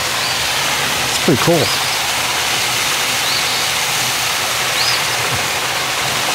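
A steady rush of water from a turning water wheel at Clarkson Covered Bridge in Cullman County, Alabama, with a brief clatter partway through and a person speaking briefly over the flow.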